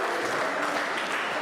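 Wrestling crowd at an indoor pro wrestling championship bout applauding in a dense, steady burst of clapping that fills the room without letup.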